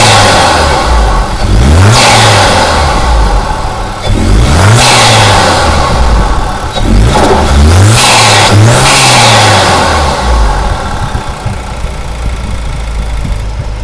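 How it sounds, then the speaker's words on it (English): Hyundai Sonata N Line with a stock blow-off valve revs repeatedly, four sharp throttle blips rising and falling over a loud idle, each followed by a quick hissing release, with no talk. "Give it a couple revs so you can hear the stock blow off valve."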